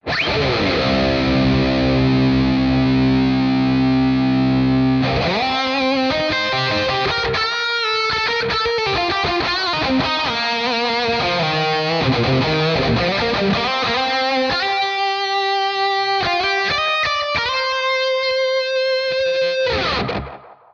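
Electric guitar played through a Mooer mini-modeller with a classic plate reverb, heard alone and loud. Sustained distorted chords ring out first, followed by busier picked phrases and chords trailing into a reverb tail.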